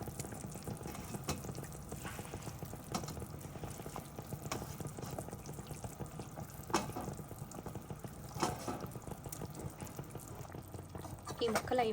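Pesara attu pulusu, a Telugu curry of moong dal crepe pieces in tangy gravy, simmers in a covered pot, giving a steady low bubbling hiss with scattered soft clinks throughout.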